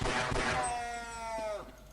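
Gunfire from the Half-Life G-Invasion mod, fought in tunnels: a loud burst of shots up front, then a ringing tone that slowly falls away over about two seconds, with no talk.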